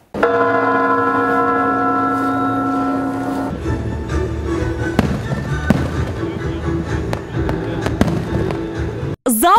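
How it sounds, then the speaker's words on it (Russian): New Year fireworks salute bursting at 2 a.m. over a city square in Berezniki, with sustained bell-like ringing tones at first, then dense rolling bangs and crackles that continue steadily and loudly to the end. "Залпы новогоднего салюта гремят строго по расписанию в 2 часа ночи."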